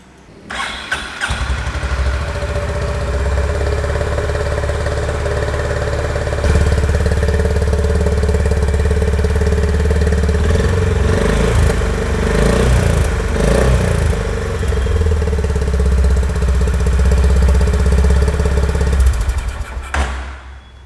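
A Honda CB 350 motorcycle engine starts and settles into a steady, loud idle with a deep thumping rumble, briefly revved midway before dropping back, heard up close with no talking.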